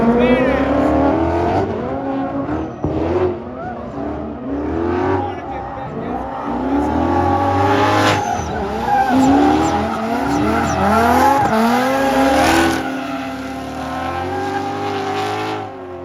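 A Mustang drifts through a corner at a drift day, its engine revving and wavering loudly up close while the tires squeal in long skids, with a person talking over the noise.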